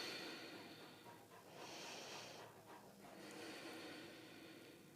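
Soft, raspy breathing with a couple of snuffly snorts, close by, against a quiet hissing room background.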